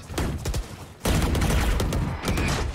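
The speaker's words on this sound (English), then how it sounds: "Budget Pro putting some bullets through the smoke." Rapid gunfire bursts crackle through a round of Valorant in a school esports match, with dense shooting sounds filling the clip and growing louder and more continuous in its second half.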